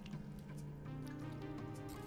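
A soft, trickling watering effect from the video game Sheltered, with faint liquid drips and squishes running steadily over a low game background.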